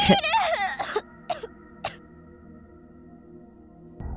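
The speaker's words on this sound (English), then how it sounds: "She suddenly started to cough and heave." A girl coughing in the Chaos;Child video game: a burst of harsh, close coughs and heaving in the first second, two shorter coughs after, then a steady low musical hum carries on alone.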